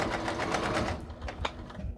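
A sewing machine runs in a steady, dense whir of stitching for about a second, then stops, leaving only quieter handling sounds.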